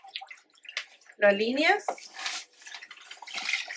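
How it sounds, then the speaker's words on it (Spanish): A FilMop mop swished and agitated in a bucket of dirty water gives short watery splashes and drips, heard under a person speaking Spanish. "Cuando hayas acabado de trapear, quieres colocarlo en el agua sucia, agitarlo."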